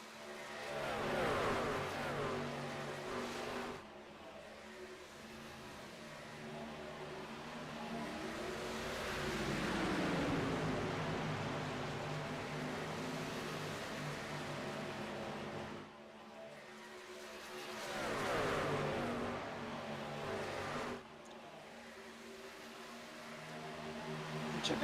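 Racing trucks roar around Las Vegas Motor Speedway, engines swelling loudly as each pack passes close by and fading in between, with repeated Doppler sweeps and a constant background drone of the field.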